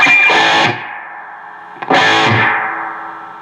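An EVH Iconic guitar amp plays two distorted electric guitar chords, each struck hard and ringing out with a quick, splashy built-in reverb trailing off between them.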